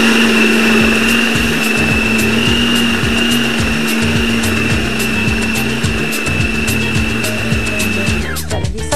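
A grinder runs loud and continuous, blending minced meat, onion, red chili, salt, ginger, garlic, nutmeg and garam masala with a steady high whine and whirring hum. It winds down at the very end.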